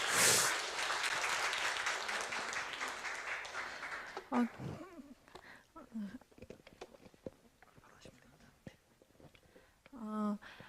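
A forum audience claps in welcome for a young speaker from Andong, a dense burst of applause that fades after about four seconds into scattered claps, shuffling and a few quiet voices.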